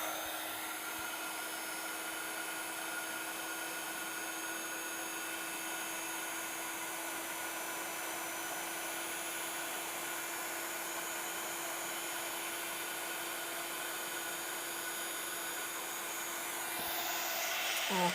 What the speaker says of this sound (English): So we're going to use our heat tool.